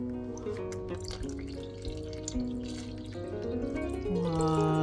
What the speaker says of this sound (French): Donc, on rajoute de l'eau.